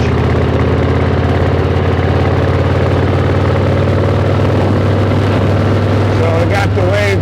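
A Harley-Davidson motorcycle engine while riding along Dexter Trail toward Stockbridge, a loud steady low rumble that runs throughout, with a brief fluctuating tone near the end.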